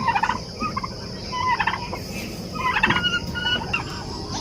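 Turkeys gobbling in a rustic livestock yard, several bursts in a row from birds nearby, with chickens and other barnyard noise in the background. No one speaks.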